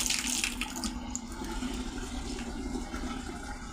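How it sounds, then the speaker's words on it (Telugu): Water runs steadily from an opened household tap, a continuous close rushing gush that holds at an even level throughout. "ట్యాప్ ఇప్పేసారమ్మా"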